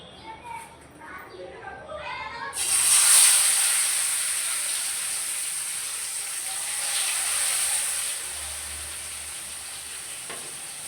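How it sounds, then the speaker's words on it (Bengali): Tilapia fish dropped into hot oil, breaking into a loud, steady sizzle and hiss of frying that starts abruptly after a quieter opening and continues close up, with light kitchen sounds beneath. "এই যে তেল গরম হয়ে গেছে, এখন মাছ ভাজার জন্য মাছ দিয়ে দিই"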